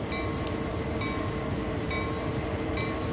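Locomotive in the Train Sim World 2 game, a steady loud rail rumble with faint repeating higher tones, heard alone and continuous.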